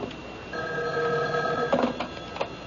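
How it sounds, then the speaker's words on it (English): Telephone bell ringing in an old radio mystery drama, a steady electric ring that sounds for about a second and a half, clear and near over a quiet room background. "Excuse me, that's my phone."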